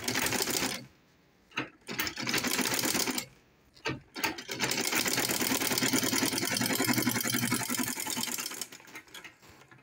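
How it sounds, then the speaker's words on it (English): A sewing machine runs top stitching along a zipper pouch, starting with two short bursts and brief pauses, then settling into a long continuous whirring run, close and steady, with no speech. "so I'll top stitch it the second time"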